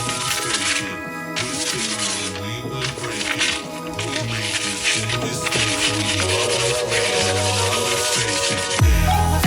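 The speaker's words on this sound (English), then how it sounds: "I'm going to take out my 180 sandpaper and just sand them down" Exterior BMW trim pieces being sanded by hand with 180-grit sandpaper, a continuous close rubbing rasp with uneven strokes and a thump near the end.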